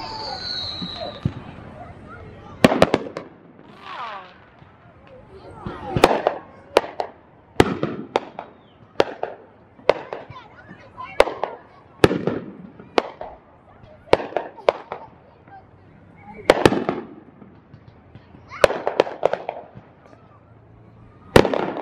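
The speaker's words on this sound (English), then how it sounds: "Some impromptu fireworks going on." Impromptu fireworks at a holiday lights display in Gallipolis, Ohio, going off as a string of sharp, loud bangs and pops at irregular intervals, with quieter gaps and faint crowd murmur between bursts.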